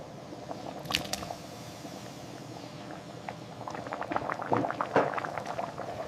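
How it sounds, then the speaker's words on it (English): Basa fish sour soup broth with okra, taro stems and tomatoes simmers in a pot, a soft bubbling with scattered pops and wet squelches that grow livelier midway. "Letting it simmer perfectly."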